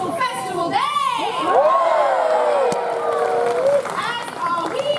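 Outdoor crowd at the Pennsylvania Renaissance Faire's queen's court cheers and shouts loudly for several seconds, a dense roar of many voices with rising whoops and children's cries.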